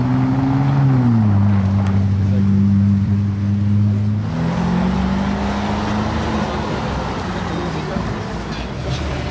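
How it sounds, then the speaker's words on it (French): Cars on a Paris street during a Sunday gathering of fine cars, engines rising from a distance with a droning tone that shifts pitch, then wind and broadband traffic roar, and voices underneath. "J'adore filmer les voitures arriver de loin, je trouve ça beau."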